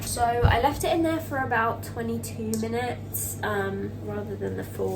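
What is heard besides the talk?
No everyday noises stand out.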